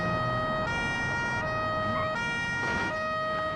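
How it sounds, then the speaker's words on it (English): An emergency vehicle siren in BeamNG Drive wails loud and close in a two-tone alternating pattern over a low engine rumble, with no talk. "sirens,"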